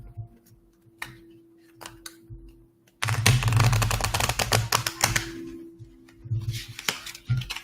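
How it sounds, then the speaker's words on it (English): A quick, dense riffle of playing cards being shuffled, a crisp rattling burst after a few soft taps and clicks. "I'm going to give it a good shuffle."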